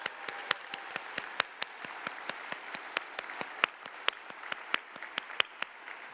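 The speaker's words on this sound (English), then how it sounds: "Give them another round of applause for their commitment." Applause at a 2018 health professions school graduation ceremony, sounding as a fairly faint, sparse crowd with individual sharp claps standing out in a steady rhythm, no speech.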